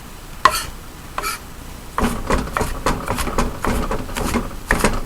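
Knife blade chopping onions on a cutting board, a few spaced knocks followed by a quicker, uneven run of sharp taps, close and with no voice over them.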